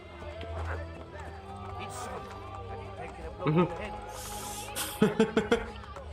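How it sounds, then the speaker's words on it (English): A horse gallops in Assassin's Creed Brotherhood, with quick clip-clop hoofbeats near the end amid game effects and whooshes, while a player speaks over it. "There's a crazy horse! I can't control it!"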